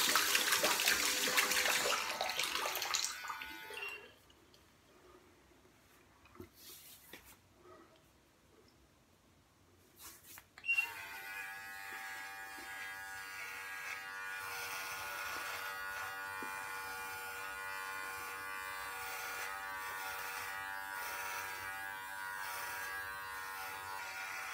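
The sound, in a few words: Brio Beardscape electric trimmer running, rinsed under water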